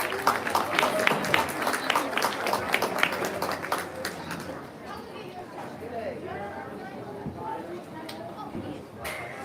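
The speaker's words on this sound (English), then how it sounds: "they all 6 deserve another big round of applause as they head back" Applause from a crowd at a 2022 market hog show rings out loud and dense at first, then thins into scattered clapping beneath general crowd chatter and voices.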